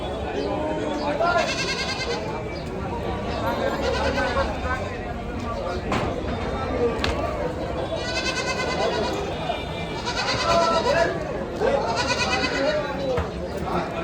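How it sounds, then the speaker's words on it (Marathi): Kathiawadi goats, pregnant does and does with kids, bleat repeatedly in bursts at a busy livestock market, their cries rising over steady crowd chatter and background market noise. "काटेवाडी शेळ्या ज्या आहेत त्या गाभण आणि पिल्लावाल्या शेळ्या आहेत पाहू शकाल"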